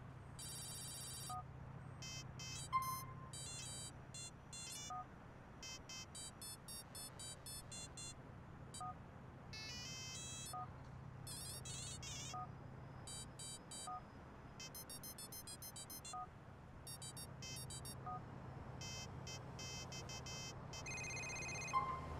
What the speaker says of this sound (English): I was looking at the ringtones.